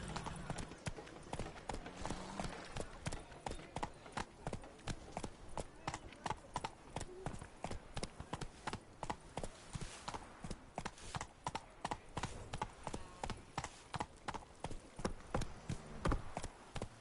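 Geralt's horse Roach clip-clops at a steady walking rhythm for the whole stretch, with evenly spaced hoofbeats that sound close and quiet and continue without a break.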